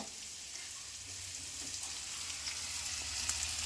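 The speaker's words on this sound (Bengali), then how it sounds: "আর এদিকে হচ্ছে যে সবজিটা ভাজা হচ্ছে, আর এই যে ভাজছে আমার ছেলে" Vegetables fry in a pan at home, a faint, even sizzling hiss that swells slightly over a few seconds with no voices.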